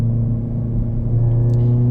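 A Chevrolet Celta with a Race Chrome 3.5-inch muffler idles with a steady, deep, close exhaust rumble, mellow rather than raspy, with no talking.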